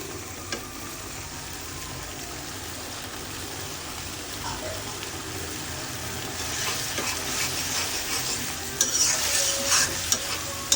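A pan of food sautés with a constant low sizzle while a utensil stirs and scrapes against the bottom, the stirring growing busier and louder toward the end, with no talking.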